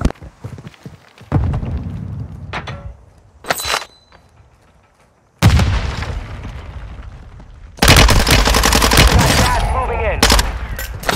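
Call of Duty Warzone hip-fire gunshots crack in several loud bursts, a short burst early, another around the middle, then a sustained rapid volley near the end, separated by quieter gaps with some talking.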